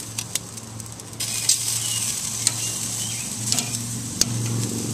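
Chicken, brats and bacon-wrapped beef steaks sizzling on a Kamado Joe grill, a steady close hiss and crackle with faint clicks and a low hum underneath.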